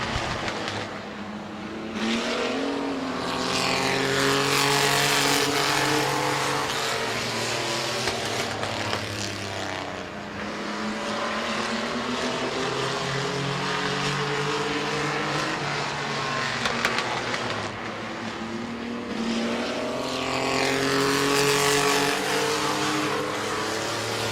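Race cars circle the Midvale Speedway oval, a pack of engines swelling in repeated waves as the cars roar past and fade around the track, loud and continuous with rising and falling pitch.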